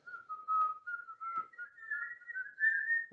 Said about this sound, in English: can you whistle with your thumbs together?